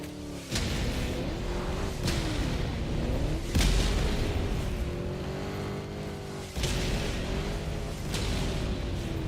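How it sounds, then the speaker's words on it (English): Orbital barrage strikes in a video game, a series of heavy booming blasts landing at intervals of a few seconds over a rumbling, droning background, with no talking. "Firing orbital barrage"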